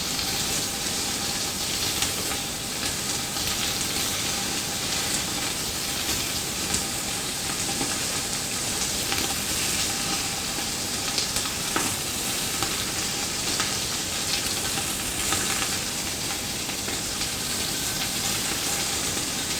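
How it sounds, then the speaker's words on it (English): Fatty beef pieces sizzle and crackle steadily in a screaming-hot pot, a dense, even hiss that runs loud and close throughout, with faint stirring scrapes and no talking. "Good sizzling sound going there."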